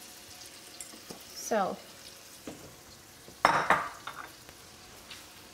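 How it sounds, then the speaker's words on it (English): String beans, washed and cut into bite-sized pieces, frying in a pan with a soft sizzle, stirred in two louder scraping bursts. A few words are spoken. "we're also going to put in there 2 cups of string beans that have been washed and cut into bite-sized pieces."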